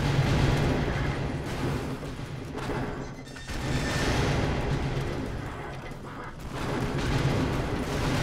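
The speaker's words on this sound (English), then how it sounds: "So much explosion." Video game Expendabros fills with dense, continuous explosions and rapid gunfire, loud rumbling blasts and crashes layered with no pauses throughout.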